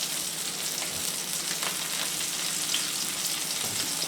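Steak frying in a pan gives a steady, even sizzle and hiss, moderately quiet and close, with no voices over it.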